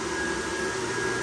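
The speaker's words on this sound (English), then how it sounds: "there's the blower right there" Blower fan of a Gemmy airblown inflatable snow globe running, a constant close whirring hum with a steady tonal whine, alone and unbroken.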